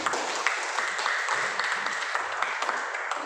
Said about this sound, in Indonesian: beri tepuk tangan kepada teman